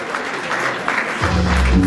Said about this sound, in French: Est-ce qu'on peut bien l'applaudir, s'il vous plaît?